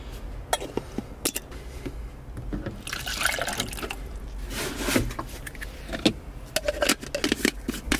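Pre-workout drink of water, flavouring and caffeine poured into a cup: close splashing and filling liquid with clattering knocks and clicks, loudest in the middle.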